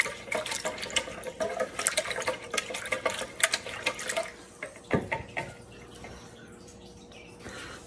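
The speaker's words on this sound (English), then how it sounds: "a 1/4 cup of rice vinegar. And you're gonna whisk that together." Rice vinegar dressing whisked for a slaw for spicy chicken soy tacos, rapid wet clicking strokes for about four seconds, then a single knock and a quieter liquid tail.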